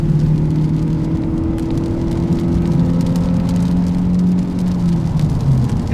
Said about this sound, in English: Start up electric motor.